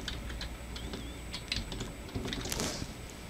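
Rapid, steady keystrokes on a computer keyboard while a spreadsheet formula is entered, close and clear, with a denser burst of key clicks near the end and no talking.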